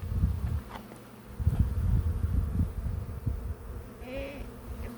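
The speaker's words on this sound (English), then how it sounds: "Pollen. And lots of bees." Honeybees swarm and buzz around an open beehive during a hive check, a steady low drone with bursts of louder buzzing as individual bees pass close by.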